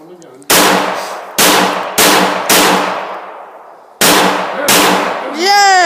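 Six loud pistol shots fire downrange at a target at an uneven pace, each a sharp crack with a ringing tail, and a voice comes in at the end.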